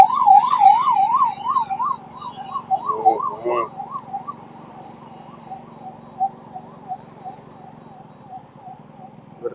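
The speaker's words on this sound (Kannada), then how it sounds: "ambulance guys" A wailing ambulance siren rises and falls in a rapid regular cycle, loud at first then fading slightly, with traffic hum and brief voices underneath.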